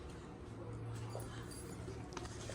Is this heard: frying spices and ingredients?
no